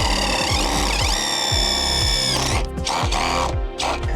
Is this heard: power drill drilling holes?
yes